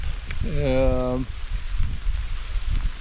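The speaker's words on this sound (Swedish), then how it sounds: "Nu ökar regnet såklart." Steady patter of rain falling on a forest, with a brief spoken voice near the start, then the rain continues evenly.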